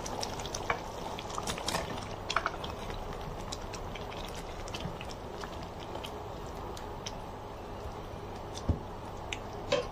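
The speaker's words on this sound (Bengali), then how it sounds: "আমার ডালটা ভালোভাবে ফুটে উঠেছে।" Lentil dal boils in a covered pot, giving a soft, steady bubbling with scattered faint pops and crackles throughout, low in level and with no voices.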